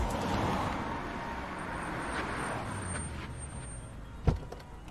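Street traffic in a jam in Bombay: a steady, fairly quiet rumble of cars and engines with faint higher whines, and a sharp brief knock near the end, with no voices.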